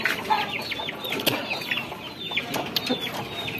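Chickens clucking in a farm coop as stormy, unstable wind blows, with several short, scattered calls overlapping at moderate distance against a steady, noisy windy background.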